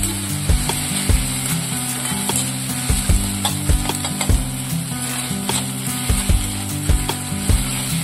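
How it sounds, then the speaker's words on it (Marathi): Ginger-garlic paste frying for chicken biryani sizzles up close, with repeated rhythmic clacks of a spoon stirring against the pan over a steady tonal background. "आता याच्यामध्ये आलं लसूण पेस्ट टाकूया, परत व्यवस्थित परतून घेऊया।"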